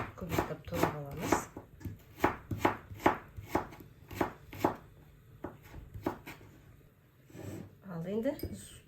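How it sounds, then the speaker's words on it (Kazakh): An onion finely chopped with a knife, a close series of steady, distinct cutting taps that thins out toward the end, with a voice talking over the cuts. "Осылай майда көбектеп турап аламыз."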